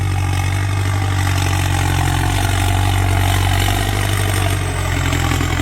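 A Ford 6640 tractor engine runs loud and close while pushing soil, a continuous heavy rumble that stays steady throughout with no voices.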